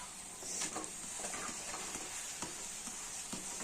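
Okra sizzles steadily in hot oil in a pan for a vegetable sabji, with a few soft scraping clicks as the pieces are turned over; close and continuous, no talking.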